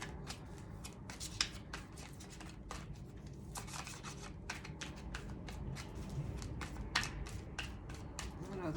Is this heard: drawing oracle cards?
no